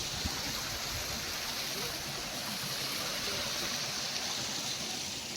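River water flowing in a steady, dense broadband rush, close and continuous without any break, and no voices over it.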